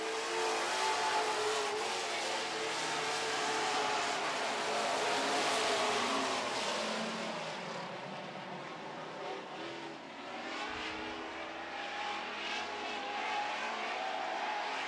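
Super stock race cars roar around an oval track during a heat race, a dense continuous engine drone that swells as the pack passes close, then recedes and steadies into a more distant rumble.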